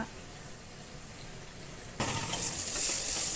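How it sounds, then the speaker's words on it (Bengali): Potatoes frying in a pan on a home kitchen stove make a faint, steady sizzle that suddenly jumps to a louder, brighter hiss partway through and continues. "এদিকে আলুটাও ভাজা আমার হয়ে যাচ্ছে"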